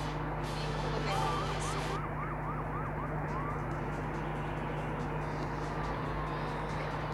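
A wailing siren rises and falls in a steady pattern over a constant engine hum, fading after a few seconds while the drone continues.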